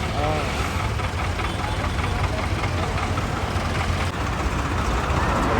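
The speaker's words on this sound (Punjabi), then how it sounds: "ਇਹ ਆ ਕੇ ਫੌਜੀ ਵਾਲੀ ਐਂਬੂਲੈਂਸ ਹੈ" An army 4x4 ambulance idles nearby with a steady, rough engine rumble at a farmers' tractor march gathering, while people talk over it.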